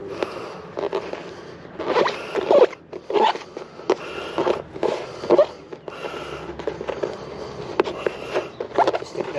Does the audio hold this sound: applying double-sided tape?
yes